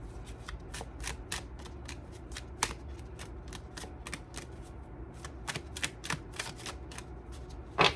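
Tarot cards shuffled continuously by hand, producing rapid close crisp riffles and slaps in a brisk uneven rhythm, with no talking.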